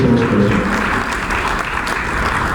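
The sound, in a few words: round of applause for panelists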